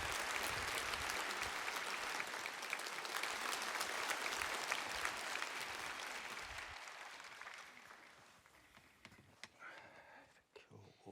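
A church congregation at a revival festival gives warm applause as a pastor is welcomed, a dense wash of clapping that stays strong for several seconds, then thins and fades out.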